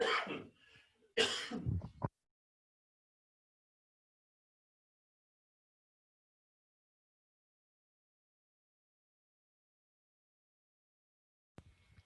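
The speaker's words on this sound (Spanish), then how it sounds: "estoy con un poquito de tos" A couple of quick, raspy coughs up front, then a long stretch of silence with a faint sound at the very end.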